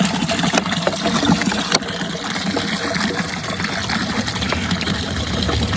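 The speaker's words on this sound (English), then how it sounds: "People stop here at this little pull-off," Mountain spring water gushes steadily from a roadside fountain at a small pull-off on a Sardinian mountain road, a continuous splashing stream close by with a low idling engine rumbling underneath.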